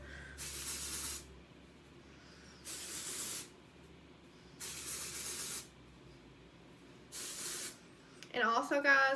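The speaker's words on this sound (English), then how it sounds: "let's use some dry shampoo to get some texture" Dry shampoo is sprayed onto hair in four separate short, hissing bursts at an even pace, fairly quiet and close, with a brief rustling noise at the very end.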